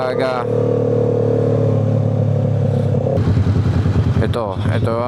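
Busy morning traffic in Angeles City heard from a motorcycle, with a steady engine drone and nearby vehicles rumbling, then a rougher, pulsing engine note as the bike moves off; a voice is heard briefly at the start and end.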